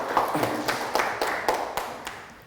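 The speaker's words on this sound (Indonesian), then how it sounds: "kita beri aplaus untuk kelompok 1" Scattered hand claps from a small classroom group applauding the first presentation team, a thin, uneven patter of quiet claps lasting a couple of seconds with no talking.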